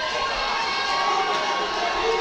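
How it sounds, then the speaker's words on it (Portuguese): Crowd at a Cães de Guerra muay thai fight shouting and cheering in a steady, dense roar that holds at one level without a break. "A torcida gritando."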